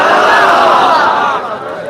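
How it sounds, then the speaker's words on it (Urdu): A large crowd gathered at night for a Shab-e-Barat religious event produces a loud, dense roar of many voices and cheers that fades slightly at the end. "یہاں پر جو ٹھاٹے مارتا ہوا انسانی ہجوم ہے، یہ در حقیقت عاشقان مصطفیٰ کا ہجوم ہے۔"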